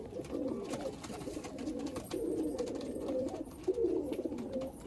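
Pigeons in a loft coo softly in repeated low, throaty phrases, several birds overlapping close by, with no one speaking.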